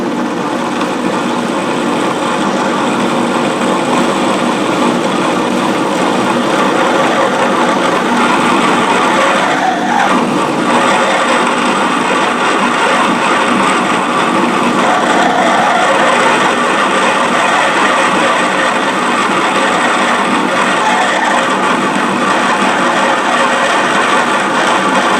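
A machine runs slowed down in back gear, giving a steady, loud, geared mechanical whir with a faint ratcheting texture that continues evenly for the whole stretch, with no talking.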